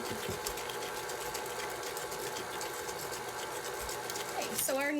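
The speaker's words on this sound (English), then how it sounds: "So we're going to add that and turn that on and mix it until it's blended." An electric mixer blending banana muffin batter, a steady whirring motor drone that holds evenly throughout, with occasional faint voice sounds nearby.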